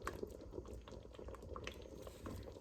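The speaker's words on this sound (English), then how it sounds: "I still have this on sauté, so it's still cooking a little bit." Beef stew simmers in an Instant Pot on the sauté setting, giving off a steady, close, low bubbling that continues unbroken with no voices.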